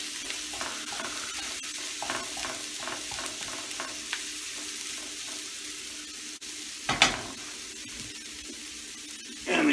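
Mushrooms frying in a pan for a duck confit pasta salad, a soft steady sizzle broken by rhythmic scraping stirs and a clatter near the end, close.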